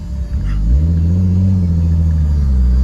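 A Pandem widebody Nissan R32 drives with a loud, steady low engine rumble that rises slightly as it pulls away, heard continuously and close.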